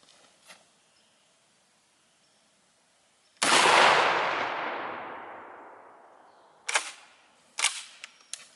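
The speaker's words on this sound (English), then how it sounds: "Let's step it up to a 3-inch magnum slug. I bet this will penetrate it quite decently." A shotgun fires a single 3-inch magnum slug at a tire rim outdoors: one loud, sharp blast with a long fading tail, followed later by a few small clicks and knocks.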